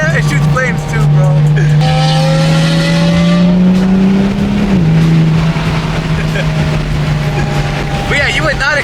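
A 2012 Lamborghini Aventador engine and exhaust roar loudly up close. The pitch climbs, then drops, followed by crackling pops, and people talk over it.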